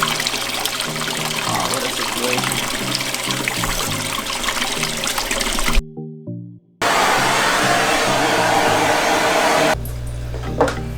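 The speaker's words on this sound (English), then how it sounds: "I think this pump is too strong." Pump on an aquarium overhead sump filter pushes water in a steady, loud rushing flow, briefly cutting out before resuming, with a splashing trickle near the end; a voice speaks briefly.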